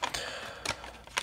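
A laptop screen bezel on a homemade Raspberry Pi laptop being pried off gives a few sharp plastic clicks, three distinct snaps spaced about half a second apart, close and fairly loud with no talk.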